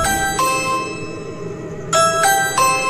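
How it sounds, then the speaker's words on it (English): A two-tone electronic doorbell chimes several times in quick succession, bright and clear, with short pauses between rings. "then rang the doorbell a bunch of times."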